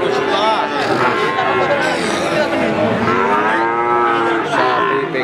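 Cattle at a busy rural cattle market moo loudly and repeatedly, long overlapping bellows continuing without a break over a dense background of crowd noise and talk.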